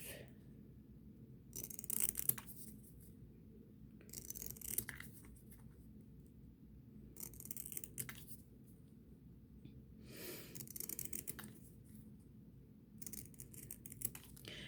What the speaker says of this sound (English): we are going to cut each of these off